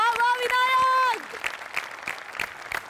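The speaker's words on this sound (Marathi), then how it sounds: "विनायक पुरुषोत्तमसाठी प्रचंड टाळ्या" A studio audience at a Marathi comedy show claps in a short burst of applause, starting under a drawn-out sung or shouted voice that then cuts off, leaving scattered claps.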